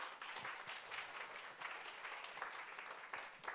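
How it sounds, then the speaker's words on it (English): Audience applause at an online seminar comes through as a continuous, faint wash of clapping, with a few sharper individual claps standing out. "Give Atomy a big round of applause."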